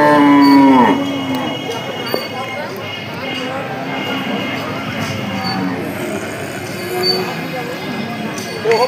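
A dairy cow at a busy rural cattle market lows loudly at the start, a long close moo, then the clip settles into crowd chatter and market noise with people talking throughout.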